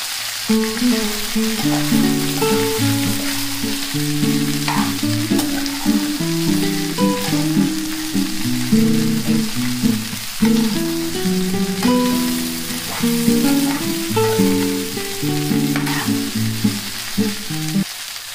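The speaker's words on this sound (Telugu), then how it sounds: "ఇప్పుడు బెండకాయ ముక్కలు వేసి వేపుకుందాం" Okra pieces fry in a pan with a continuous crackling sizzle, close and even, while soft, melodic background music plays throughout and no one speaks.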